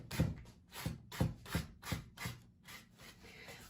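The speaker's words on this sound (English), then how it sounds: "I just like to take the sandpaper. This is just, I think it might be a 80 grit, and just lightly kind of just touch it" Wood is rubbed lightly by hand with 80 grit sandpaper, about eight soft, even rasping strokes in a steady rhythm, close and fairly quiet, fading toward the end.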